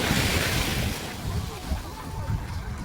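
Ocean surf rolls onto a beach in a steady, loud, broadband wash, with wind buffeting the microphone and no clear speech.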